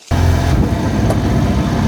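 A mini truck engine starts up loud and close after a brief quiet start, then holds a rough mid-range rumble as the vehicle begins driving off.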